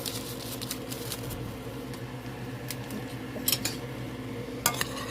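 Onion soup mix being stirred into pan gravy for a country fried chicken dinner, a steady low scraping and clinking of utensil against pan with a faint sizzle beneath and a couple of sharper clinks near the end, no talking.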